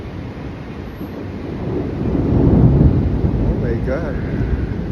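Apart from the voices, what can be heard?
thunder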